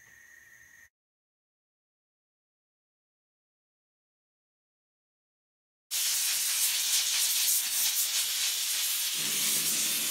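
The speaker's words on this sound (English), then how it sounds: "And steamer with long bristle brush." A steamer blasts onto rubber car floor mats during an auto detail, a loud continuous hiss that starts abruptly after a long silence and runs steadily to the end, after a brief quieter opening.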